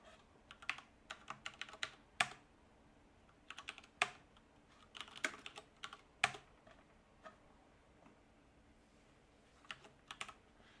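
Someone types on a computer keyboard in quick, uneven clusters of close, crisp key clicks separated by short pauses, with a quiet background hum and a sparse final few taps.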